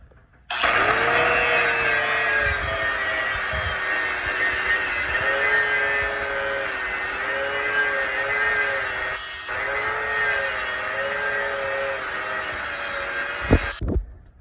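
An angle grinder fitted with a flap disc runs continuously, whining at high pitch while it buffs powder coating off a steel bracket from a leg press hack squat machine, with a brief dip mid-way before it spins down at the end.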